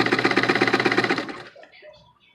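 A sewing machine stitches a fabric face mask in a fast, steady mechanical run of rapid chattering beats, then stops and fades into quiet room noise.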